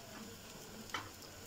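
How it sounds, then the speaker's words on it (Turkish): Water poured onto toasted rice and vermicelli in a pot sizzles faintly and steadily, with one brief sharper hiss near the middle of a short, quiet moment. "Üzerine su ekliyorum."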